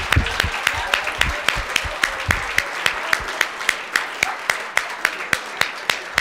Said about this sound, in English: Let's give one more round of applause for all of our award winners tonight.